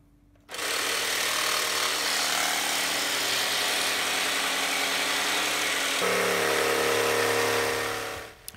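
A power tool cuts wood panelling inside a van with a loud, steady buzzing rattle that starts abruptly, shifts slightly in pitch partway through and then stops.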